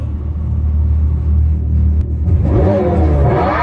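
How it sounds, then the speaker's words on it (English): A 2023 Dodge Challenger Hellcat 7th Edition running E85 idles with a deep, loud rumble, then revs up sharply, the exhaust roaring louder and higher as it accelerates. "Check out the exhaust."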